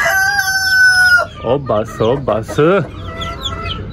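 An Aseel hen about to lay eggs clucks and calls loudly at close range, a sustained tonal call followed by a run of rapid rising clucks, with brief speech mixed in.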